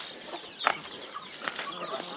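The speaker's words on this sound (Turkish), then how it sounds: "Burada da tokat tavuklarımız var." Soft clucking from a few Tokat chickens in a hobby coop in Taşköprü, Kastamonu, with a brief sharper call near the start, amid a low farmyard background.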